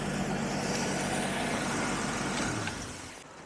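A carbureted Jaguar V12 engine idles with a steady, close rumble and then is switched off, the sound fading away over the last second.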